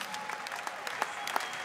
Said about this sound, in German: da kommt der anerkennende Applaus der beiden Nixen aus Köln